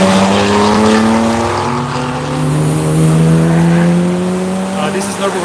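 Race cars at the Nürburgring track roar steadily with sustained engine tones that rise and fall as they pass, loud and continuous throughout.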